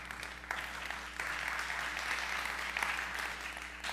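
A church congregation applauding during a Spanish-language sermon, a steady round of clapping over a low hum with a few sharper claps standing out.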